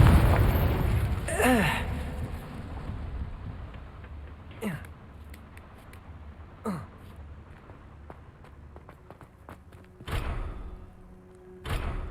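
Fiery spell blasts from the Confringo curse in Hogwarts Legacy burst out one after another, several sharp whooshing explosions spaced across the clip, loud and close over a low game ambience with no talking.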